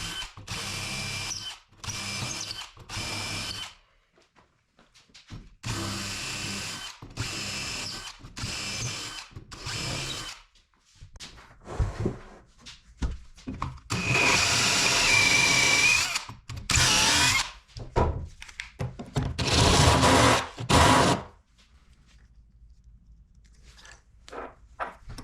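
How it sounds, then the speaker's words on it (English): A power drill spinning a wire brush on a pecan wood table in repeated bursts, whirring and grinding loudly against the surface, with short pauses between runs. "I used a wire brush on a drill"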